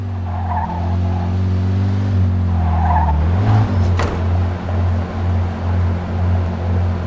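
Car in the video game Mafia II driving into a yard, with a loud steady engine drone that rises in pitch, then tires squeal as it skids, heard alone and up close.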